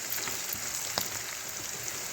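Green and red chillies fry in hot oil for a tomato-onion chutney, giving a steady dense sizzle with faint crackles throughout, close and continuous with no talk.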